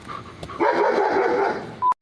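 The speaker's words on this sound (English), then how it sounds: "No, we don't need the barks." A German Shepherd barks and whimpers outdoors in summer, a quick run of close, fairly loud yips and barks followed by a short sharp bark at the end.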